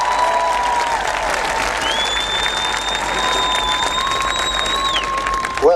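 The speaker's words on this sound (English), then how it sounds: "Graduates, please give him another round of applause." Sustained applause from a graduation ceremony crowd for a commencement speaker, steady dense clapping throughout with faint cheering and a few whistles over it.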